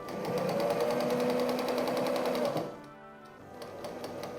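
A sewing machine stitches fabric along a quarter-inch guide for a patchwork star, running in a steady loud whir for a couple of seconds, then slowing and stopping with softer mechanical ticks.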